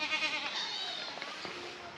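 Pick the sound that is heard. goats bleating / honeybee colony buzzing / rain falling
goats bleating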